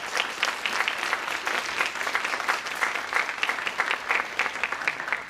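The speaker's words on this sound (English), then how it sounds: "Applause for Nayo Ulloa" Steady applause from a crowd, dense and continuous clapping throughout, no voices standing out.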